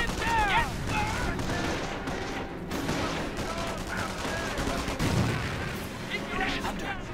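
Machine gun fire suppresses a bunker in the Company of Heroes video game, with dense gunfire, bursts and distant booms rolling continuously while someone talks over the battle.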